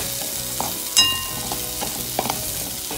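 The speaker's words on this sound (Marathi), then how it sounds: "वरून टाकून मिरच्या आणि सगळं चांगलं परतून घ्यायचं।" Green chillies and masala sauté in a hot pan with a continuous sizzle, broken by a few sharp scrapes and clinks of the spoon stirring, close up and with no talking.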